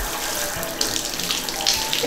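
Hot shower running in an apartment bathroom, a steady, close hiss of spraying water that holds constant for about two seconds with slight splashy variations.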